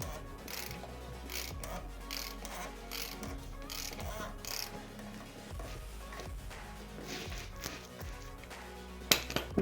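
Ratcheting clicks and mechanical clatter from a wrench tightening the plastic oil filter housing on a Smart Fortwo, a steady run of close, moderately loud ratchet strokes with a few sharp clinks near the end.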